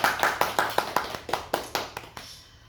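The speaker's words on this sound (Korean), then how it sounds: "우리 영광의 주님 박수 올려드리겠습니다" At a Korean Thanksgiving Sunday church service, a congregation claps in a steady rhythmic beat, about a dozen sharp unison claps spaced evenly, fairly close, before stopping abruptly.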